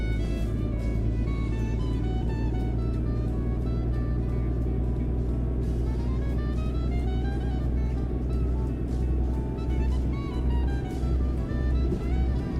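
Broken-down truck driving, a continuous low engine drone with rising and falling gear whine and occasional clunks, steady and fairly loud.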